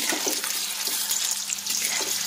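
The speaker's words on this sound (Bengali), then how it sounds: "আমি এগুলো লাল লাল করে ভেজে তুলে রাখবো" Cauliflower pieces frying in hot oil, a continuous close hiss and bubbling sizzle with a few soft knocks, no talking.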